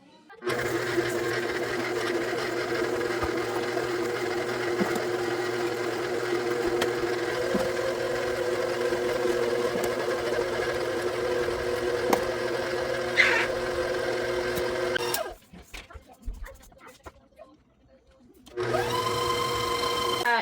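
An electric mixer beats cream cheese, butter and sugar with a steady, loud mechanical whir. It stops briefly near the end, leaving near-silence, then starts up again.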